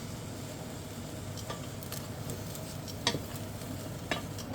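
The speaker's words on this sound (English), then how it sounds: "Just give that a little stir." Onions sizzle softly in a pan while being stirred for carrot and sweet potato soup, a quiet, steady frying hiss broken by a few light scrapes and taps of the utensil.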